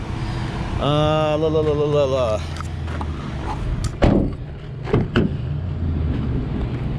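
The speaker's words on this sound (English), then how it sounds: "There's your power door there." A 2014 Toyota Sienna's power sliding door whirs with a rising motor whine for over a second, followed by two solid thuds as it latches shut, heard close up inside the van.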